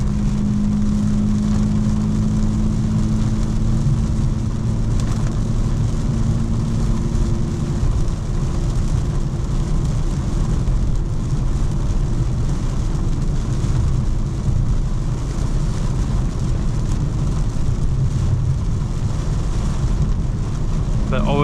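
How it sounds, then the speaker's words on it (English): Heavy, flooding rain drums steadily on a 2025 BMW M4 Competition while it is driven, a dense continuous wash mixed with engine and road roar and low tones that fade after a few seconds, with a voice talking over it. "This is what I call like significant rain, guys. Like this is like flooding rain conditions."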